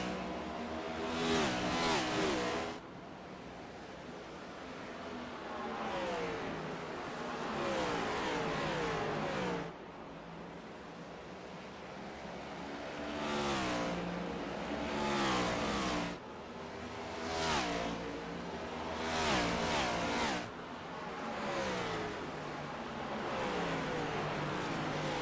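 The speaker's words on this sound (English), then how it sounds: "We've got 30 cars on track." Several race cars lap New Hampshire Speedway in a 30-car field, their engines rising and falling in repeated loud passes with revving surges between quieter stretches, while an announcer talks over the track noise.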